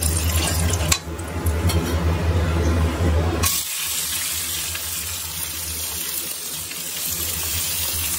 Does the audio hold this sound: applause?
no